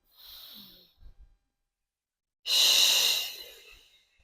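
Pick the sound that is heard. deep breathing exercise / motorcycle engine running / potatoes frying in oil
deep breathing exercise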